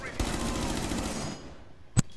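A rapid burst of automatic gunfire punches through a wall in the video game Rainbow Six Siege, a dense rattling volley for over a second followed by a single sharp shot.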